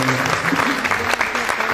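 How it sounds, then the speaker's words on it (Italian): Short burst of audience applause at a film festival award ceremony in Diamante, Calabria: brisk, dense clapping from a crowd, with a voice faintly audible beneath it. "Potete applaudire"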